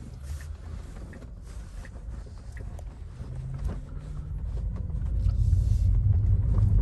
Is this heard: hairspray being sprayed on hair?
no